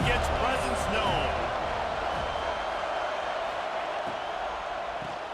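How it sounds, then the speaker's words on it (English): A stadium crowd cheers in EA Sports College Football 26, a broad, steady roar of noise with a brief sharp burst near the start, easing slightly over several seconds beneath a commentator's voice. "This crowd ready to make its presence known."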